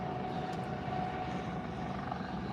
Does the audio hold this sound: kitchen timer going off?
no